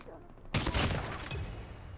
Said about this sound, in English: Oh, that's their sentry.